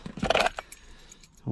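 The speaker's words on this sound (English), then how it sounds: "Old brake keys." Old car keys jangling briefly among loose coins while rummaging through a Ford Focus at a scrapyard, a close burst of metallic chinks that fades, followed by a short low thud.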